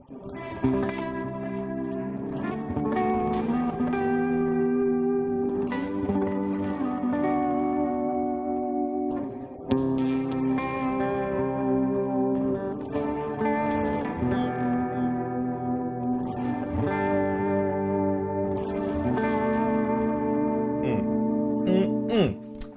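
Sustained guitar chords ring through a Retro Reel tape-style wow and flutter pedal, pitch gently wavering and warbling with echo and reverb, playing continuously without talk.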